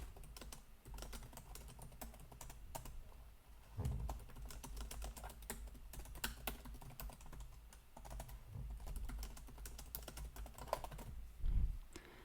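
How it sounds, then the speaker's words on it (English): Steady typing on a computer keyboard while writing into an HTML text editor, continuous quick key clicks with occasional heavier thumps, close and quiet with no voices. "So here we can type."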